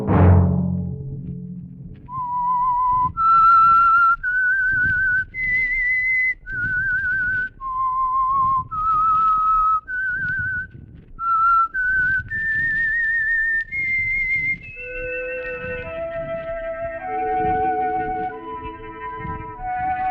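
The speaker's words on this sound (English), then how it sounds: "Let that whistle be your signal for the Signal Oil program" A clear whistled melody of distinct rising and falling notes, loud and close, ending in a longer descending phrase with a soft backing underneath.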